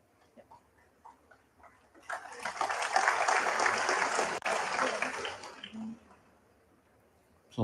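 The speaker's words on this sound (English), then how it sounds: "Applause from the crowd" Snooker crowd applause at the Shanghai Masters bursts in after quiet murmurs, a loud sustained clapping that holds for about four seconds before tapering into scattered claps.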